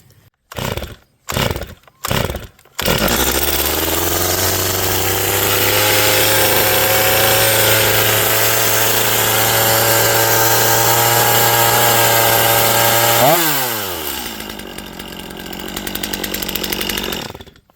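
Stihl MS250 chainsaw: three sharp pull-cord yanks, then the engine catches and runs loud and steady close by for about ten seconds before revving briefly and dropping back to idle.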